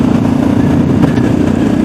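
A Yamaha XT660X single-cylinder supermoto engine drones loud and close during a down change, a steady throbbing rumble with a slight shift in pitch midway, no talk.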